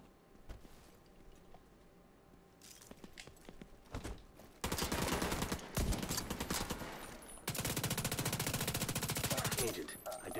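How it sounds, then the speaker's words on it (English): Sustained bursts of rapid machine-gun fire from The Division 2 video game, starting sparse and growing into loud, dense, continuous volleys, with speech partly under the gunfire. "This machine gun is carrying me right now, to be honest with you."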